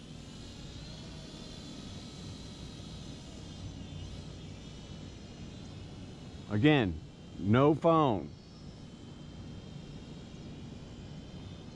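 A Holy Stone HS100 drone flies a couple hundred yards downrange, its motors giving a steady, distant buzzing hum throughout, with someone briefly talking over it near the end.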